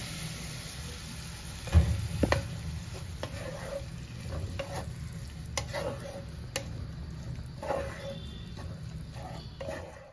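Boiled matar dal goes into a pan with red amaranth greens and is stirred, giving a low bubbling sizzle broken by light scrapes and taps of a spoon against the pan, quiet and close.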